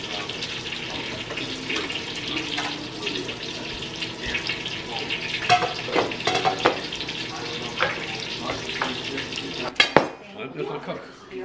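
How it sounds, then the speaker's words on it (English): Steak cooks on a grill with a constant sizzling hiss, along with clinking utensils, pan knocks and some background movement, ending in a sharp clatter before dropping away. "Ito na yung ano ko, steak ko na i-grill natin dito."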